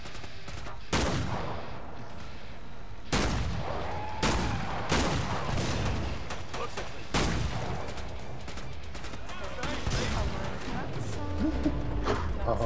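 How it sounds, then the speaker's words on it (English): Grenade launcher blasts and heavy shotgun shots from Killing Floor 2, fired in a series of loud, punchy bursts with short gaps between them, mixed in with game effects and players chatting over the shooting. "the grenade launcher sounds cute. Oh, this shotgun's pretty meaty as well"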